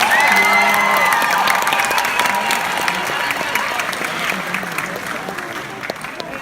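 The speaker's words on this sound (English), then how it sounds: "let's give them a few rounds of applause." A room full of people at a high school awards show claps loudly, with scattered cheers and whoops. The applause fades gradually toward a lighter patter.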